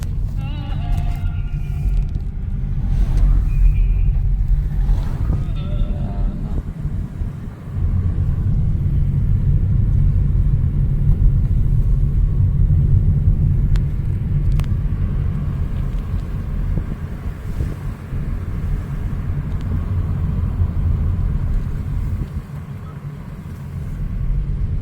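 A car on a narrow coastal road in Spain: a low engine rumble that swells as it passes close by and then fades, with voices talking briefly at the start.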